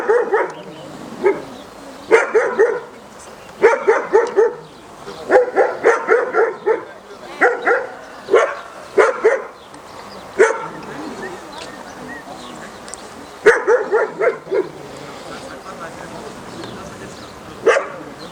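A dog barks repeatedly in quick clusters, close and loud, with short pauses between the bursts.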